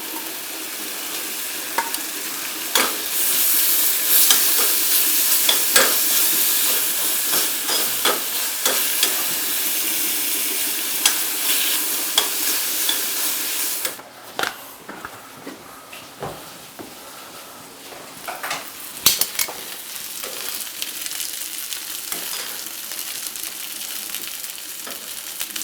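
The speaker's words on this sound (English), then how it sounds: "we're gonna toss it back in, just stir it around" Duck meat sizzles loudly in a hot pan while being stirred, a steady bright frying hiss broken by scrapes and clacks of the utensil, easing to a quieter sizzle partway through, no talking.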